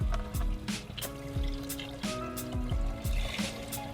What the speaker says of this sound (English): I think I'm gonna do the whole thing of veggie broth.